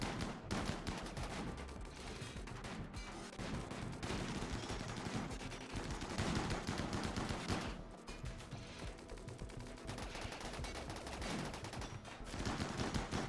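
Enemies fire guns in the RimWorld colony game: dense, continuous volleys of rapid shots crackle without pause, with a few brief gaps, at moderate loudness and with no voices.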